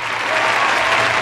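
Short canned applause sound effect triggered by an interviewer, a steady burst of clapping and crowd noise lasting about a second, loud and alone.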